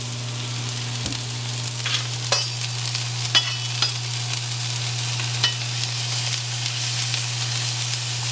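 Onions, mushrooms and peppers frying in oil on a flat griddle at home, a steady sizzle with intermittent spatula scrapes and taps over a constant low hum, no speech.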